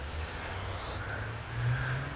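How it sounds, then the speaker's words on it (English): Silicone spray bursts onto a rag for a Honda power antenna repair, a loud steady hiss lasting about a second before cutting off to quiet room noise. "and I just take it and spray."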